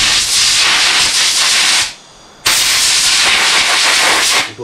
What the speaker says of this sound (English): Another thing you can do in between intervals is use the old air compressor.